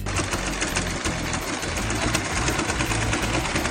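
Sewing machine stitching a line down a tie, a steady close whirring drone with a fast regular needle chatter throughout.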